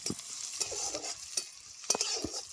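Chopped garlic and onion sizzle in a pan for pasta, a close crackling fry punctuated by several sharp scrapes and clicks of a spatula stirring, with no talk.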